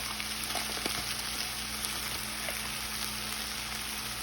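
Garlic sizzling in a pan, a faint, steady crackle and hiss with a few small pops scattered through, low in level and alone without talk.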